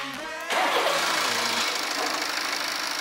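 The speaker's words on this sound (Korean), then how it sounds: "시동 걸어보자" A BMW G30 520d diesel engine, left standing for four months with a reported broken timing chain, cranks and catches, then settles into a loud, rough, steady idle close by.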